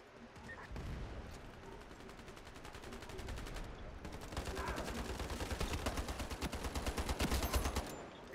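SCAR-H rifle in the shooter game Ironsight fires in bursts of sharp, rapid shots. The bursts grow denser and louder toward the end, with more gunfire going off in the background.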